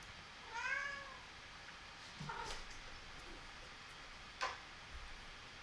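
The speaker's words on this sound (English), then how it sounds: "That's my cat, if you can hear it." A house cat gives one clear drawn-out meow near the start, followed by faint scattered clicks and small knocks in a quiet room with a low background hiss.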